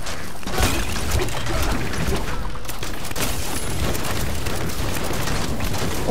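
Loud, continuous blasts and crackling bursts of bola explosions in the video game Diablo III: Reaper of Souls, like repeated explosions amid chaotic action, with no pauses.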